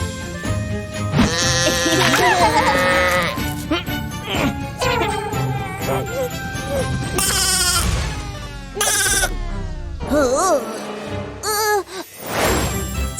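Sheep on a farm bleating repeatedly, loud and close, with wavering cries overlapping one another and a light jingling of bells.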